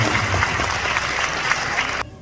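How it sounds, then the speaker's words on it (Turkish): Audience applause at a theatre awards ceremony in Turkey, dense continuous clapping from a large crowd filling the hall before cutting off abruptly near the end. "Kocaman alkışlarla sahneden alıyorum."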